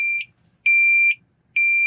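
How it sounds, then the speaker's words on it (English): A Toptes CT-580 carbon monoxide detector runs its buzzer test, sounding three loud, clean, high-pitched electronic beeps in a regular on-off rhythm, each lasting about half a second, alone with no talking. "buzzer"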